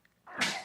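A single short sneeze bursts out near and loud, with a brief breathy lead-in before the sharp explosive release.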